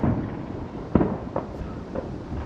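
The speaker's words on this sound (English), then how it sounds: "You guys can enjoy some fireworks while I finish putting this back together." Fireworks burst in the night sky as a few distant pops and thuds, one sharper crack followed by softer bangs spaced apart, over a low outdoor background.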